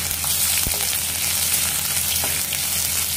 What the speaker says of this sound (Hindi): अदरक से लहसुन को भून लेंगे जब तक इसका कच्चापन निकल जाए।